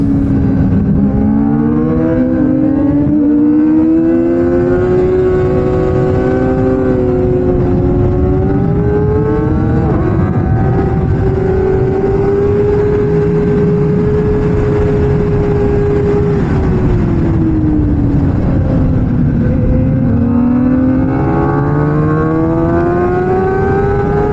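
A motorcycle is ridden hard through the corners of the Streets of Willow Springs track on a windy day; the engine drones loud and close, its pitch rising and falling continuously as the bike accelerates and eases off.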